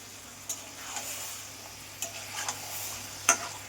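Chicken kosha is sautéed in a pan over a quiet steady sizzle, broken by a few scraping stirs and a sharp metallic tap of the spoon near the end.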